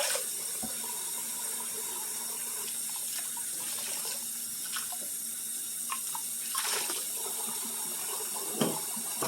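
Tap water runs steadily into a kitchen sink as it fills for soaking dishes during evening cleanup, a continuous moderate splash with occasional clinks of dishes, no talking.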